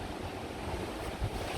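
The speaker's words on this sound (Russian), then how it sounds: "Море бушует сегодня, друзья мои." Stormy sea waves surge onto a beach in a steady broadband roar, loud and close, with wind buffeting the microphone and a brief heavier crash near the end.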